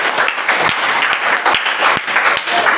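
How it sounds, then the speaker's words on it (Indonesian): A classroom group claps for students who came to the front, a dense, fairly loud burst of hand clapping from many people that lasts a few seconds without pause. "Kita beri aplaus dulu untuk teman-teman yang gerak-gerak ini"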